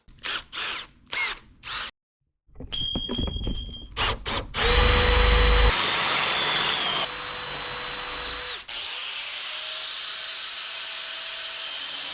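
A Milwaukee power drill whirs in several bursts, starting and stopping, then holds a loud sustained whine that shifts in pitch before winding down, all close up and without talk.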